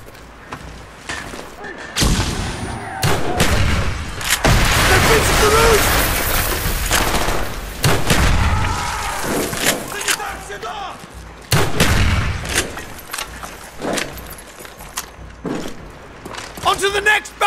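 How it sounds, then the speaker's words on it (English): Grenade blasts and gunfire in Call of Duty Black Ops during a rainy night mission in Kowloon City, heavy booms and rattling shots in loud bursts, with soldiers shouting over them. "Throwing grenade!"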